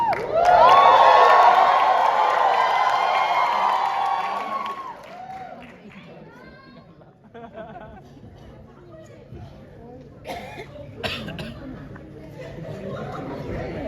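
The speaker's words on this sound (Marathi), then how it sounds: "स्वानंदसाठी एकदा जोरदार टाळ्या" An audience at a stand-up comedy show claps and cheers loudly for a performer, and the roar fades after a few seconds into scattered applause and crowd chatter.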